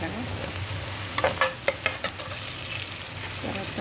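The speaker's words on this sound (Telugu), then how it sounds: "ఆనియన్స్ ఫ్రై చేసుకున్నాను. ఆనియన్స్ వేగిన తర్వాత బాగా" Onions frying in a pan for a Telugu curry give a steady sizzle, with a few sharp scrapes and clinks as they are stirred, close and without talk.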